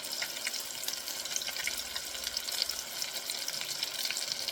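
Fajita stuffed chicken breasts fry in a pan, a steady bright hiss and crackle of sizzling oil holding even and close throughout, with no voices.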